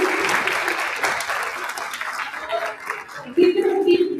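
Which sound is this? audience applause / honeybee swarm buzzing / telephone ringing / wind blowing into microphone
audience applause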